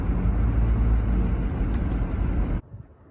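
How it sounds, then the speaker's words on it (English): Car driving along an ice-covered road during a December ice storm, a steady broadband road and engine rumble that drops away suddenly near the end. "There's a car, it looks like, trying to come this way"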